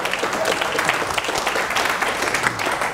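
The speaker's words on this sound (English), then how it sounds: "Applause, yay." Rotary Club audience applause, a dense crackle of many hands clapping steadily and fairly close for a few seconds without voices.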